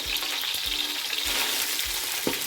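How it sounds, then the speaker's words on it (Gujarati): Roasted split chickpeas (daliya dal) frying in oil, a close, steady bubbling sizzle with soft rhythmic low thumps and a brief stir near the end. "એટલે એ દાળિયાની દાળ સરસ રીતે તેલમાં તળાઈ જાય"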